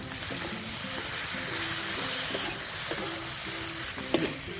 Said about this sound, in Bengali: হলুদ দেওয়ার পরেও আরও কিছু সময় ধরে নেড়ে চেড়ে নেব একটা টমেটো কুচিয়ে নিয়েছি টমেটো দিয়ে দেবো